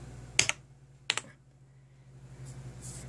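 Keys on a vintage NEC PC-8300 computer keyboard are pressed in two quick pairs of sharp clicks, close and distinct, followed by quiet hum and faint later taps.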